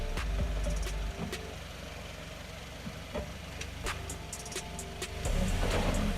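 A Haval SUV engine revs up while the brakes are still held after a full stop, a low steady engine drone that rises near the end, heard close.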